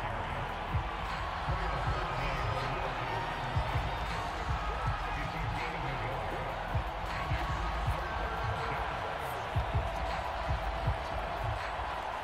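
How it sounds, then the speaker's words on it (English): Football stadium crowd at a Bengals vs Falcons game, a steady roar of many voices with scattered claps and shouts rising and falling throughout, heard under a broadcast commentator's speech. "The crowd getting into it as we come up on a big third down."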